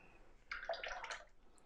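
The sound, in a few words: water being added to watercolour painting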